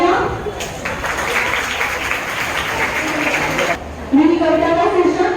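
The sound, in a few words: school audience applause for competitors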